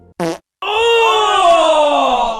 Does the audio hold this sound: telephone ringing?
no